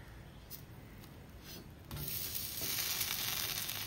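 Dosa browning on a hot pan until crispy gives a steady, close sizzle and crackle that swells louder about halfway through and stays strong to the end, with no voices.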